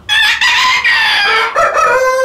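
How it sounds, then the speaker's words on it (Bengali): A rooster crows loudly and close by on a poultry farm raising many breeds of chickens, with several drawn-out crowing calls and some clucking in quick succession. "৩ জোড়া মুরগি দিয়ে শুরু করেন খামার।"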